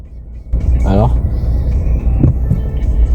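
A car passes by on a street, a loud low rumble that swells in close and lingers, while people talk in French over it.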